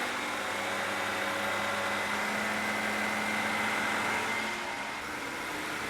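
A BMW 535i E60 engine held at a steady 2,000 RPM during carbon cleaning, an even, constant hum with a low drone and no change in pitch, close and uninterrupted.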